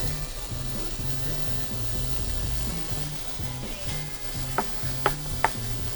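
Onions sizzling in a pan on an induction cooktop, a steady frying hiss with a low rhythmic stirring scrape and a few sharp ticks near the end.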